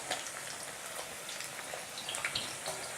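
Sliced potato chips frying in oil over medium heat, a steady crackling sizzle with scattered pops, close and even throughout.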